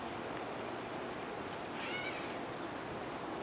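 A cat meows once outdoors, faint and distant, a short wavering cry in the middle of a steady background hiss.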